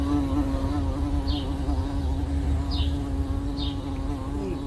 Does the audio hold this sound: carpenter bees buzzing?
yes